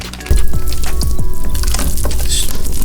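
A generous amount of butter hitting a hot frying pan and sizzling loudly, a sudden onset of crackling and bubbling that carries on steadily up close, with no talk.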